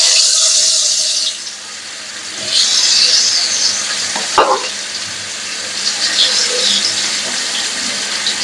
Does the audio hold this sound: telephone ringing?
no